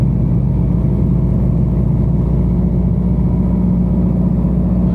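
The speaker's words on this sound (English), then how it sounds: "We want to raise it up to about 1800 to warm up the engine there a bit." A light aircraft piston engine holds at a raised warm-up speed of about 1800 RPM, giving a loud, steady, droning rumble from close by with no break and no talk.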